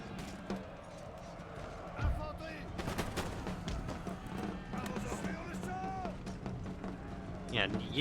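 Musket volleys in the video game Total War: Empire on a French campaign battlefield: scattered crackling shots and a sharper burst near the two-second mark over a busy battle din, with someone talking throughout.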